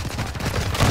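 Bursts of gunfire from a shooter video game, a brief rapid cluster of loud, close shots.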